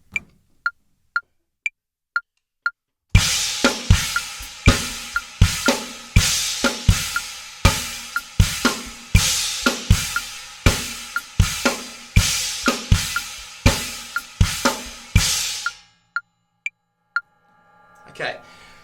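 A drum pattern with sharp, trashy china cymbal crashes playing the 2 part of a 2-against-3 polyrhythm over kick and snare, bracketed by sparse metronome-like clicks before and after.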